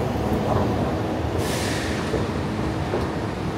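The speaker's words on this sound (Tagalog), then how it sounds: "Stasyon ng tren." An MRT metro train rumbles steadily at a station, with a sharp hiss of air brakes releasing partway through.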